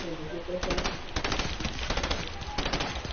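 Rapid bursts of automatic gunfire aimed at the player during a Fortnite match, loud and close, arriving in several clustered volleys with brief gaps between them.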